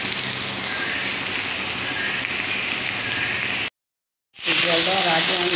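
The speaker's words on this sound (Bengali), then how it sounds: "আমি এবার এটার মধ্যে জল দিয়ে দিই" Water poured into a hot pan of bata fish curry with potato and gourd stems hisses in a loud, dense, rain-like sizzle, cuts to silence briefly, then resumes with faint talk over it.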